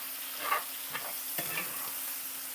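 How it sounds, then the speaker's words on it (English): Bacon sizzling in a pan during breakfast cooking, a steady frying hiss with a few soft stirring scrapes and clinks, close and alone without talk. "so it's bacon. It's sizzling."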